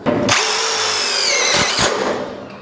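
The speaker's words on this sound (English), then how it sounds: "I push in on the wall and the piece of coping, drill in." A power drill whirs loudly up close, drilling into pool coping, running almost continuously for a couple of seconds with a brief dip in pitch partway through.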